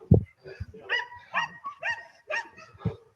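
A ten-year-old protection dog barking during bite training, a rapid series of about seven sharp, close barks with short gaps between them.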